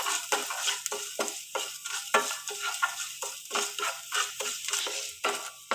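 Ingredients for a thoran fry in a pan while a spoon stirs in quick, repeated scrapes. The rhythmic scraping runs over a soft, steady sizzle, close and fairly quiet.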